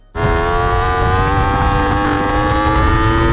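Racing motorcycle at full throttle on a circuit straight, rider-mounted view, a sudden loud engine roar with a steady harmonic drone as traction electronics cut power after a wheelie, close and continuous without talk.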